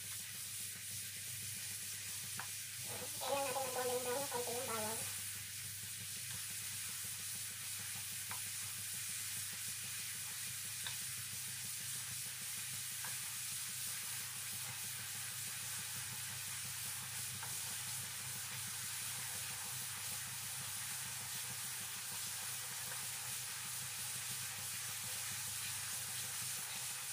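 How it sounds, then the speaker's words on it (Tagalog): Garlic frying toward golden brown gives off a soft, continuous sizzle and hiss at low volume, with a brief louder stir or scrape early on, then a long quiet steady crackle. "Kailangan natin ng golden brown ng konti ng bawang."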